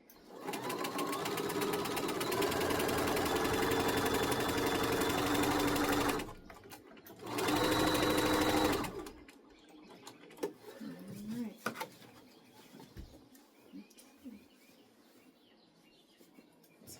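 A sewing machine hums loud and steady as it stitches a fabric pleat, pausing briefly and running again before stopping, after which someone talks quietly.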